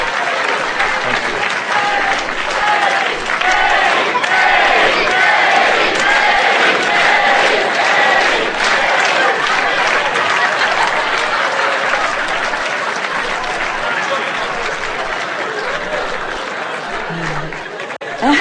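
A large audience applauds and cheers at a live seminar, dense sustained clapping mixed with shouts and chatter, loud and close throughout before it thins slightly near the end.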